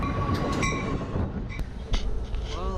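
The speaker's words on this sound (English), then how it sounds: "On the train back to LA now." A train riding back to Los Angeles from San Diego, heard from on board as a loud, steady rumble with rattling, clicks and high squealing wheel tones, no talking.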